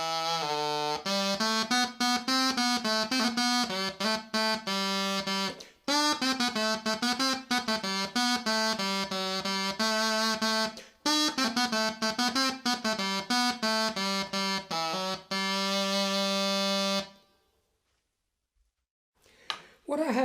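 A 16th-century tenor reed instrument plays a melodic line with a buzzy, warm, nasal tone, notes phrased in runs with brief breaths between, close-miked and alone before a short silence.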